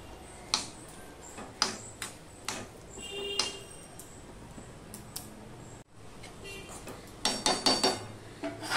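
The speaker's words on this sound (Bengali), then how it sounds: "ঘিটা দিয়ে আমি সম্পূর্ণটা মিশিয়ে দিচ্ছি" Banana stem curry cooked without onion or garlic, stirred with ghee in a pan, heard as scattered clinks and scrapes of a spoon against the metal pan over a faint background hum, with a busier cluster of clatter toward the end.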